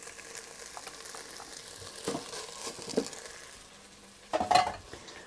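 Soft sizzling of sprats frying in a pan with a few stirring scrapes and clinks, growing louder near the end; no talking.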